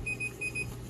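An electronic oven timer beeps in quick high-pitched pairs, two double beeps in a row, clear over a quiet background hum.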